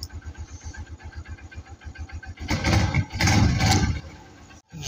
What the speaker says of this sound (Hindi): ये बाइक हो गई है स्टार्ट।